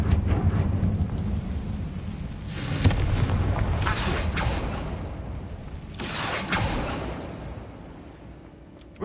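Confringo fire-blast spell exploding in Hogwarts Legacy, heard as two loud booming bursts with crackling tails over a steady rumbling game ambience.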